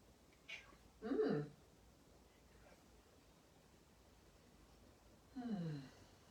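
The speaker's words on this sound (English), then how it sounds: "Here we have our yoga cat Monty." A pet cat meows twice during a quiet yoga session, a short cry early on and another near the end, both close and clear over faint background hiss.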